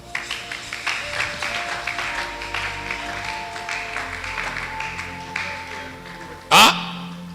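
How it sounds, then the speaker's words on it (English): A church congregation claps along steadily through a sermon, a dense sustained patter with faint tones beneath, ending in a sharp loud burst near the close. "Can you clap your hand?"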